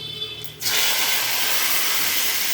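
Whole spices hit hot oil for a bottle gourd dish and burst into a loud, steady sizzling hiss that starts abruptly and holds at full strength close by.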